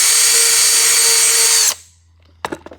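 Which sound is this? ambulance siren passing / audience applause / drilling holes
drilling holes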